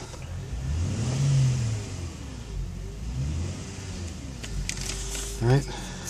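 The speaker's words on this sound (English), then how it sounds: "And we'll rev the engine." Close up, a car engine revs and rises in pitch in a couple of swelling bursts, then settles to a rumbling idle, with people speaking over it and a sharp click near the end.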